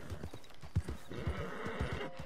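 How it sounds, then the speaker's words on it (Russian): Horse hooves clip-clop in a steady rhythm from a horse in Red Dead Redemption 2, a whinny rising over the footfalls, fairly close and clear with no talking. "О, лошадь устала. Устала моя лошадочка."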